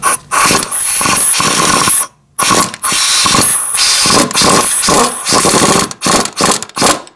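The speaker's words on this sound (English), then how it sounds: "So now I'm going to put the flexible socket on." A ratchet fitted with a flexible socket works during an alternator replacement on a Toyota 4Runner. It gives loud, close, rapid mechanical clicking in dense bursts with a couple of brief gaps.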